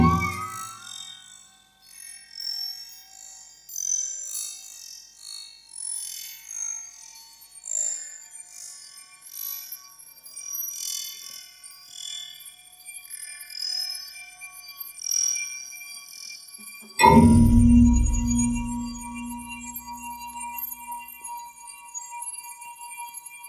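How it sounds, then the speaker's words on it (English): An excerpt from an electroacoustic piece: bright, shimmering chime-like tones and tinkling metallic textures drift and overlap, then a sudden low, resonant swell enters near the end and slowly fades. "I'd like to just play a couple of musical examples of electroacoustic pieces"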